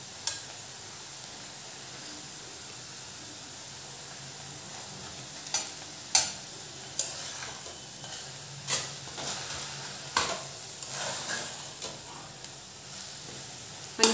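Fenugreek leaf bhaji cooking uncovered in a pan, a soft continuous hiss of steam and gentle sizzle, punctuated by occasional sharp spatula scrapes and clinks in the second half.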